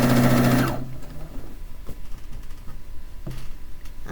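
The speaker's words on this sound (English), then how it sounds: "just listen to the machine talk to you" Sewing machine stitching fast and loud for under a second while sewing a quilt border, then stopping, followed by quiet handling clicks and fabric rustles nearby.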